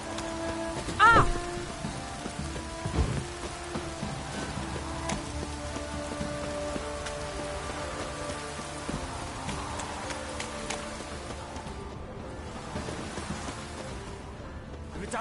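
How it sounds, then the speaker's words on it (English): Rain patters steadily on surfaces, a continuous soft hiss of drops with occasional louder taps and a brief tonal sound near the start, under faint background noise. "If it don't stop raining"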